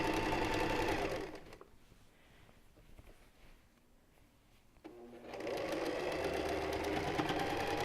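A sewing machine stitches in a fast, loud mechanical whir, stops for a few seconds of quiet, then starts again and runs steadily to the end.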